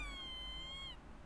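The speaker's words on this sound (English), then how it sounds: "The rubber toy squeaks eerily." A rubber gerbil chew toy in the Death and Taxes video game gives one long, eerie, whistle-like squeak with a wavering pitch. It sounds close and stands alone for about a second, then cuts off.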